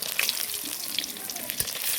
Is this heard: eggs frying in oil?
yes